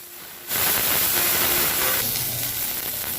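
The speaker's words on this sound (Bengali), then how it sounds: "আমি প্রথমে চিংড়ি মাছগুলোকে ভেজে নেব। তার জন্য দিয়ে দিব সর্ষের তেল।" Shrimp dropped into hot mustard oil bursts into a loud, steady hiss of frying that starts abruptly and keeps sizzling strongly without letting up.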